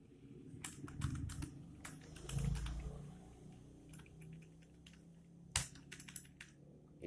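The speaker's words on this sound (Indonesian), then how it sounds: "Kita ketik di sini nama samaran aja teman-teman." Rapid typing on a computer keyboard: clusters of light, crisp key clicks in uneven bursts, with a louder clack near the end, over a low background hum and no talking.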